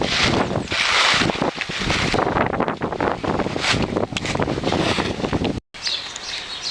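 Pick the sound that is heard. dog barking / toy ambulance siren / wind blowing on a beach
wind blowing on a beach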